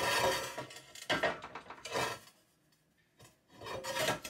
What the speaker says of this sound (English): now I'll cut it in 2 pieces